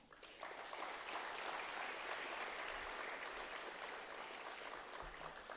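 Audience applause after a Kathak dance performance, a broad, even wash of clapping that starts abruptly and holds steady at a distance, faint overall.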